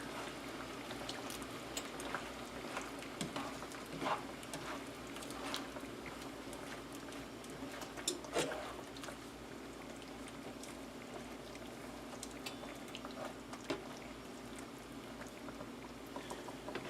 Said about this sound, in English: add the rest of the cornstarch mixture. And we'll give this a stir